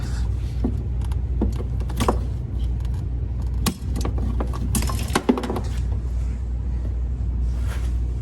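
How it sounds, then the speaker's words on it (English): A screwdriver prying and popping out a bumper bracket on a C4 Corvette, with scattered clicks, clinks and metallic scrapes over a steady low hum, one sharper snap near the middle. "I'm going to get a screwdriver and pop this out"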